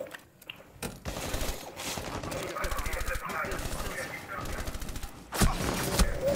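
Bursts of automatic gunfire in the video game Rainbow Six Siege crackle through, with a sharp loud shot near the end, while players talk over the action.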